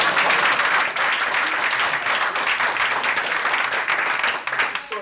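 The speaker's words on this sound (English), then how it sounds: "How about a big round of applause for that?" A roomful of people at a school board meeting breaks into lively applause, with quick overlapping claps holding steady for several seconds before trailing off.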